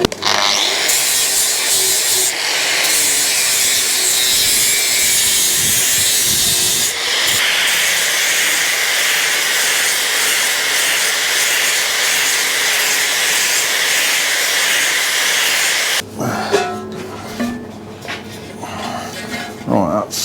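Angle grinder dressing welds on a Suzuki custom motorcycle project, a loud continuous abrasive hiss and whine broken by brief pauses, then rougher scraping contact near the end.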